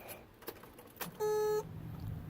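A car alarm fitted to a 1977 Datsun 280Z gives one short, sharp electronic beep lasting under half a second, preceded by faint clicks and handling noises.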